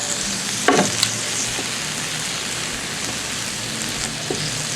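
Meat sizzles loudly and continuously in a frying pan as pieces are flipped, with a couple of sharp utensil scrapes and clinks standing out near the start.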